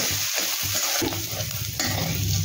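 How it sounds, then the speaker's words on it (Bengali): Sliced onions with salt frying in a pan, a loud, close, continuous sizzle broken by scraping stirs, with no talking. "পেঁয়াজগুলো একটু ভাজবো, হালকা গোলাপি হওয়া পর্যন্ত ভাজবো।"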